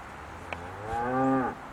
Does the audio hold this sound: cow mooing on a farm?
yes